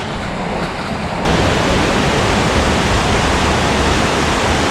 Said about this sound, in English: I didn't get much of a shot the first time I was in here on this waterfall.